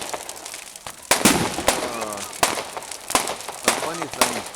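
Bonfire night fireworks burst above a bonfire on the Isle of Arran at Whiting Bay: a sharp bang every second or so, with crackling and whistling between them. Voices talk through it.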